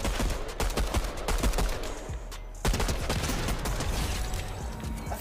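Shotgun fire in a battle royale video game: loud, rapid cracking shots and busy gameplay noise that run almost continuously, pausing briefly partway through before the clatter resumes.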